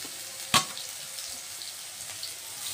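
Potatoes and drumsticks (sajne data) frying in oil in a pan, a soft, steady sizzle broken by one sharp clatter near the start, with no voices.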